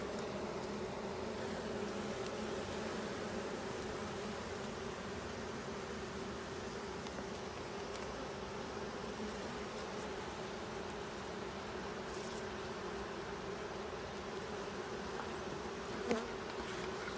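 Honeybees swarm and buzz around an open hive frame in an apiary, a dense continuous drone, close and steady, with no talk over it.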